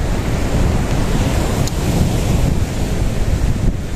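Loud, constant wash of ocean surf with wind buffeting the microphone, the waves blending into an unbroken roar.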